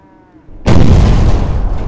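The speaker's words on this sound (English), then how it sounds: "A muffled explosion echoed in the settlement." A loud, muffled explosion bursts in suddenly after a quiet lead-in, a sound effect in a fantasy audiobook set in a settlement, its deep boom rolling on and sustaining to the end.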